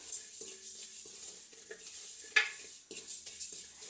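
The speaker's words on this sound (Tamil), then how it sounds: "நான் மிளகை வந்து அந்த சூட்லேயே நான் போட்டு வறுத்தெடுக்க போகிறேன்" Cumin and black pepper dry-roasting in a hot pan while making homemade chili powder, soft crackling and a gentle sizzle with intermittent stirring scrapes and light metal clinks.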